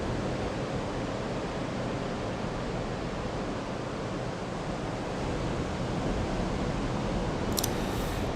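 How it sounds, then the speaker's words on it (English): Ocean surf rolls in as a steady, even wash of broadband noise, moderately distant and unbroken, with no voices. "Hear the sound of that ocean."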